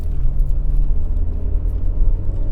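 Engine of a first-generation Nissan Almera running under the accelerator, a steady low rumble that stays close and fairly loud throughout, with no talking over it.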